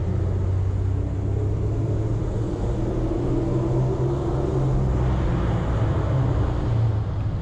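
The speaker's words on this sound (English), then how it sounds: "just enjoy the sound of this exhaust" Deep, continuous low rumble from a Dodge Challenger ScatPack exhaust in a parking garage, loud and steady throughout with no talking.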